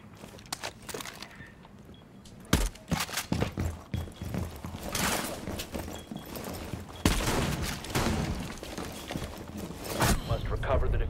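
Bursts of video game gunfire, repeated sharp shots and rapid volleys clustered in several loud bursts, with talking over them.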